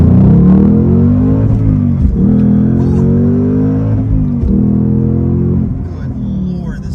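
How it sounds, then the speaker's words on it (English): A 2022 Ford Mustang Mach-1 with the handling pack accelerates hard in first gear, its engine note rising loud and close in steady revving sweeps with brief dips, while someone talks over it. "First gear, on the gas."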